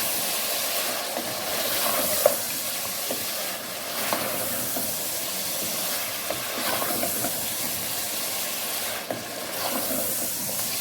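Garlic, ginger and green chillies sizzle steadily in hot oil for karahi gosht, a constant hissing fry with faint stirring clinks now and then, no talk over it.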